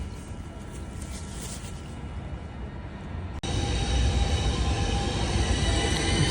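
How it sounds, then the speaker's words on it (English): A train rumbles close by with a continuous mechanical roar, growing abruptly louder partway through as it pulls into a station in southern Italy. "here comes the ritardo train."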